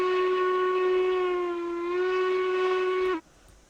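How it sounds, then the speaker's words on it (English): A big steam locomotive whistle from the Railroads Online video game blows as one long, loud, steady chime-like tone that cuts off abruptly after about three seconds. "Big whistle on this one."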